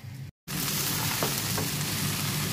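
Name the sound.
rice and lentils frying in a pot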